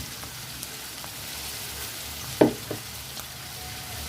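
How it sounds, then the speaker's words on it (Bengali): Chicken pieces for chicken Manchurian, cooked with onion, frying in a pan with a low steady sizzle, broken by one or two sharp clanks of a spatula stirring them. "চিকেনটা দিয়ে একটু নেড়ে দিচ্ছি।"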